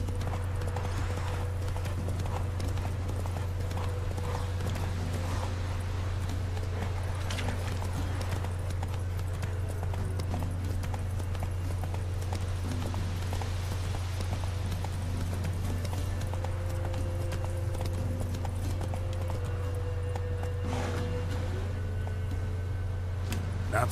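Horse Roach galloping in The Witcher 3, with steady clip-clop hoofbeats running throughout over a constant low game soundscape, occasional other effects and brief faint talk.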